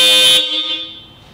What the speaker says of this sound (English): we should be able to get noise coming from both of the horns.